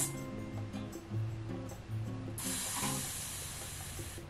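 A spray bottle clicked once, releasing a long, steady hiss that carries for about two seconds, following softer mechanical clicking at close range.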